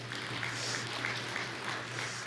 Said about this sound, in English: so we can clap for him too